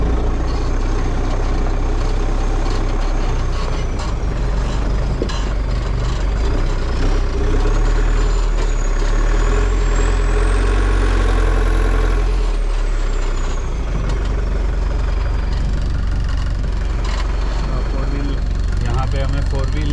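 A 2020 Mahindra Thar's engine runs steadily and loud throughout a turn, with a heavy low rumble, a rising and falling whine partway through, and speech-like activity over it.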